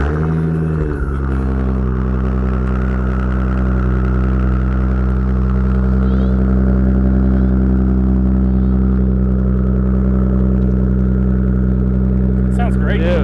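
A wagon on BBS wheels idling close by, its exhaust giving a steady, loud, deep rumble that holds evenly throughout with a slight shift near the start.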